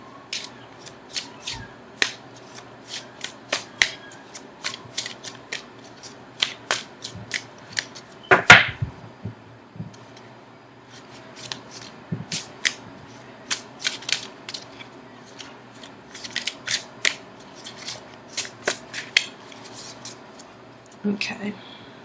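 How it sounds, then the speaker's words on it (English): Tarot cards being shuffled by hand, a series of soft, irregular riffling clicks and taps close by, with one louder slap midway and quiet pauses between bursts. "now I'm going to shuffle for an outcome card"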